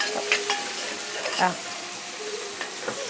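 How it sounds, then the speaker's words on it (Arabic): Peppers and garlic sauté in a pan for moussaka, giving a steady sizzling hiss broken by a few clinks and scrapes as a utensil stirs them. "او الفلفل مع الثوم كده بيتشوح اهوت"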